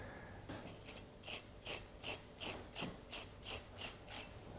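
A larger brush tapped to spatter watercolor paint, giving about nine evenly spaced crisp flicking bursts, close and moderately quiet, with no talking.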